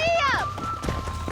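A horse gallops in Red Dead Redemption, rhythmic hoofbeats thudding close under a voice that calls out briefly at the start.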